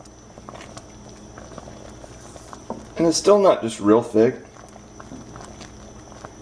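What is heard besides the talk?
sausage gravy boiling in pan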